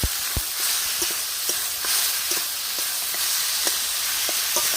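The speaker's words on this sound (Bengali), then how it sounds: "এক চামচ হলুদের গুঁড়ি একসঙ্গে ভালো করে নেড়ে চেড়ে মিশিয়ে নেবো" Ash gourd with salt and turmeric being stirred in a pan for a hilsa-head ghonto, a constant hissing sizzle with scattered soft spatula taps, close and steady without speech.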